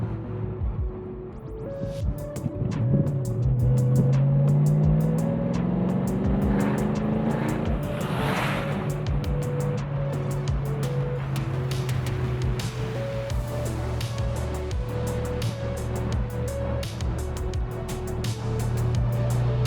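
A Ford Mustang GT convertible's engine burbles loud and close through factory mufflers, holding a steady low drone with crackling on the overrun, plus a brief rising rev near the start.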